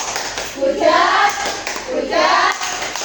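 Schoolchildren in a bilingual classroom clap together in a short patterned rhythm, voices chanting along over the claps in two bursts, close and fairly loud.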